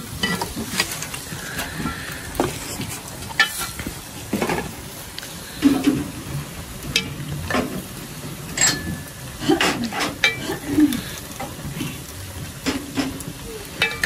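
A ladle scrapes and scoops chicken in a pot, with clinks of metal and sloshing liquid over a faint hiss, and voices murmuring nearby.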